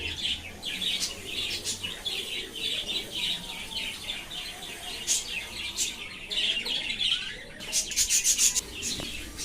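A colony of pet budgerigars keeps up a dense, busy chorus of overlapping high chirps and twitters. The chirping runs continuously at moderate loudness, with sharper bursts of calls near the end and no talk.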